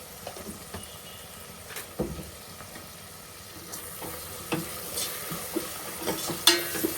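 Vegetables frying in a pan of mango sambar base seasoned with turmeric, a close crackling sizzle with intermittent scraping stir strokes that grow busier and louder toward the end, no voices.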